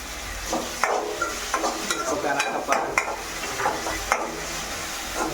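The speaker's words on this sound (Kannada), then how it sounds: "ಫ್ರೈ ಫ್ರೈ ಆಗ್ತದೆ ಫ್ರೈ ಇದೆ ನೋಡಿ" Flattened rice (avalakki) frying in oil in a pan, with steady sizzling and repeated stirring scrapes, several sharper clinks of the spoon against the pan, close and moderately loud.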